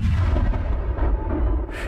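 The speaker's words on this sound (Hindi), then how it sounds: "हर रोज दोपहर को 12 तोपें छोड़ी जाती थी ठीक 12 बजे" A cannon-fire effect from the light and sound show on Ross Island in the Andaman Islands rolls out as a loud, deep, sustained boom with a rumbling tail.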